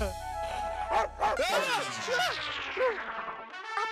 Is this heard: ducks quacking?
no